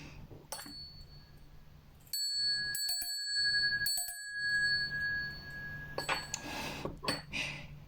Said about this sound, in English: I'm still using the bell. I'm new at using a bell, but sound cleansing is super important.